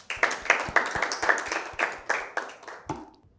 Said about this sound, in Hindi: दोनों टीमों के लिए हम मिलकर ज़ोर से ताली बजाएंगे।